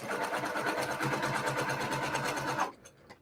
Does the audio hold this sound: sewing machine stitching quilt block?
yes